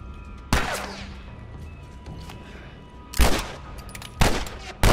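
Several sharp gunshots crack out during combat in The Last of Us Remastered, with one loud burst near the start and a cluster of reports toward the end over a busy background of game noise.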